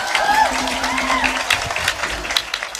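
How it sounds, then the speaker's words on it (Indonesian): A crowd applauds at a religious speech, broad steady clapping with scattered cheers and a voice or two rising over it, dense and fairly loud throughout. "Kowe aja mek tepuk tangan tok."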